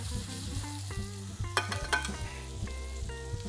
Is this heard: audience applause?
no